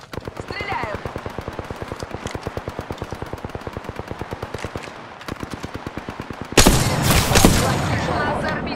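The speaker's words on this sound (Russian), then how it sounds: "Стреляю." Rapid, evenly spaced automatic gunfire in the Apex Legends video game rattles on for several seconds, pauses briefly, then a louder, denser volley of shots and blasts follows.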